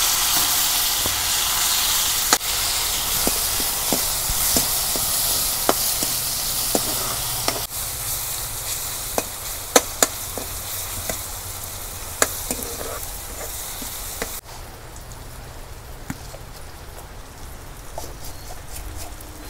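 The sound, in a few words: onions frying in hot oil in a wok on clay stove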